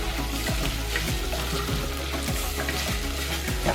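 Chicken tossed in a hot pan with melted butter, a steady sizzle broken by several rhythmic scraping jolts as the food is flipped, close and fairly loud.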